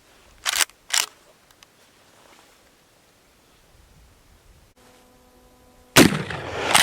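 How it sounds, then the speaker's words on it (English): Rifle shots fired in an outdoor test of a repaired, reinforced gunstock, aimed at jugs: two sharp cracks close together early on, then quiet, and a louder blast near the end with a lingering rumble. "We'll put a few rounds through it and just see if she holds together."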